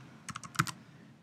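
Computer keyboard typing, a quick burst of about six crisp key clicks in an uneven rhythm, close and fairly quiet.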